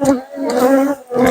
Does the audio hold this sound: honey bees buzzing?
yes